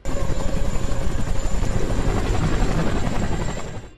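A helicopter's rotor thumps in a loud, rapid, continuous chop nearby as a four-man team drops off on a mountain summit, fading slightly at the very end.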